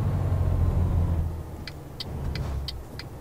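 Volvo VH16 8x4 truck engine in Euro Truck Simulator 2, hauling 62 tons: a deep, steady rumble that eases off slightly midway, with a series of faint high clicks over it toward the end.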